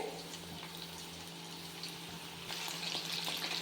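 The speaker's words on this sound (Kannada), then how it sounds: "ಮೀಡಿಯಮ್ ಉರಿಯಲ್ಲಿ ಸ್ವಲ್ಪ ಕಲರ್ ಬರೋವಷ್ಟು ಫ್ರೈ ಮಾಡ್ಕೊಳ್ಳೋಣ." Chicken pieces frying in oil over medium heat for chilli chicken, a steady soft sizzle with bubbling crackle that swells a little louder toward the end, heard fairly close with no talking.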